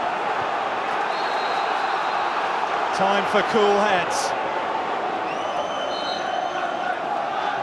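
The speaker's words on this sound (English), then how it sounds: "The Turf Moor roar is certainly in evidence." Football crowd at Turf Moor stadium during Burnley v West Bromwich Albion, a constant distant roar with rising chants and whistles around the middle, under a commentator's voice.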